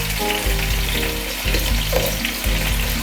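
Pearl spot fish laid into hot oil with masala and curry leaves, producing a loud, continuous sizzle with a faint pulsing rhythm, close to the pan and without talking.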